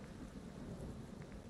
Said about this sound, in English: it looks like this map's nighttime and raining too